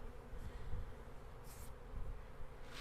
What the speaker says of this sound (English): Use my bee brush just to gently knock some of the bees off